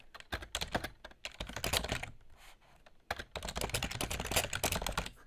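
Rapid clatter of computer keyboard keys being struck in quick bursts, with a brief lull midway, close and fairly loud, during a fast-paced Rock Paper Scissors strategy game session, including an accidental press of the F11 key.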